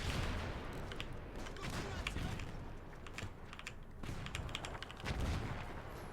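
Infantry rifle fire in a World War One battle game set on a French front, a steady crackle of overlapping shots and volleys throughout, fairly distant and dense, with a voice speaking over it.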